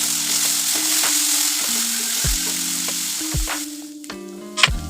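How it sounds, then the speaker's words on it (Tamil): Onions, fennel seeds and curry leaves sauté in sesame oil in a kadai, a close steady sizzle broken by periodic scraping strokes of a spatula, with soft music playing underneath. "நல்லெண்ணெய் நல்லா காஞ்சதுக்கப்புறம் அதில் வந்து கொஞ்சமாக சோம்பு, கருவேப்பிலை, வெங்காயம் இதெல்லாம் சேர்த்து நல்லா வந்து வதக்கணும்"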